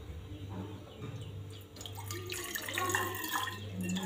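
Water poured from a tap for making tea runs in a steady, close trickle for a few seconds, fairly quiet, with faint background noise.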